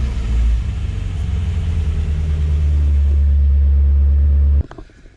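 Ford Mustang GT350 V8 engine idling and being revved, a loud, deep, steady close-up rumble that runs for several seconds before cutting off abruptly, with no voices.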